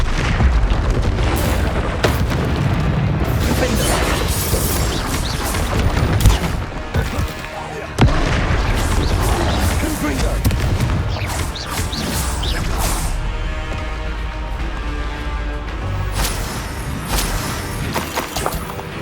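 Confringo spell blasts in Hogwarts Legacy, a string of loud booming explosions with crashing, shattering debris, dense and continuous with repeated heavy impacts, no talking over them.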